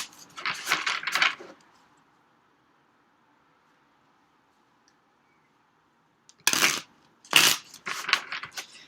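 Tarot cards riffle and flutter in two quick bursts of papery shuffling, close by, separated by a few seconds of near silence.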